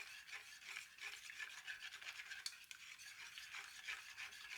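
Soft, continuous scraping and swishing of a utensil stirring washing soda dissolving in liquid in a metal saucepan, rhythmic circular strokes, faint and close with no talking.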